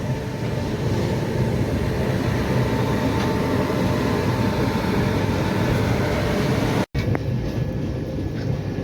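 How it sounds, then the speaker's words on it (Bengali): Garib Rath Express train running just past Khurda Road junction, a steady loud rumble of wheels and carriage noise throughout, broken by a brief dropout near the end. "আমাদের ট্রেন এখন খুদা রোড জাংশন ছেড়ে দিয়েছে"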